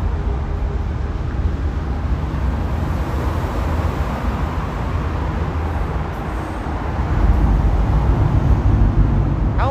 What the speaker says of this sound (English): How long is this freaking freight train?